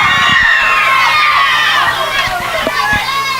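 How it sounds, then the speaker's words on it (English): High school football crowd in the stands at a rainy night game, a loud continuous roar of cheering and children shouting close by, with intermittent thumps underneath. "Yeah, we still got a great crowd tonight."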